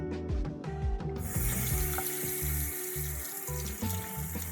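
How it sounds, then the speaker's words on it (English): Makeup brushes rinsed under a running sink tap, a steady close splash of water that swells after the first second and keeps flowing, with brief rubbing of bristles in the stream. "Going back and forth, I'm going to rinse this out."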